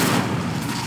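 A fire spell cast in Hogwarts Legacy gives a short, loud, dense roaring burst with no talk over it.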